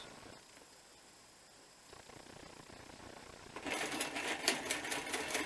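A sewing machine stitches a bushcraft working vest, starting after a quiet stretch of low handling noise and then running steadily and fairly close for the last couple of seconds.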